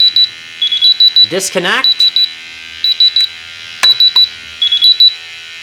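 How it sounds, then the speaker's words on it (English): A RAE Systems QRAE 3 gas detector sounds its alarm while being calibrated, giving repeated clusters of short, loud, high electronic beeps in a steady pulsing pattern, with a person speaking briefly in between. "the echo view is going into alarm because it's telling me one of my meters is getting gassed"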